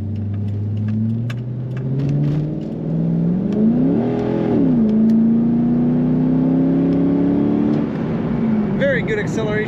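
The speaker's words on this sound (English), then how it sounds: "Very good acceleration in this Corvette." A 1998 Chevrolet Corvette convertible with automatic transmission accelerating, engine drone rising steadily in pitch with a gear change partway, heard from inside the cabin with road rumble beneath.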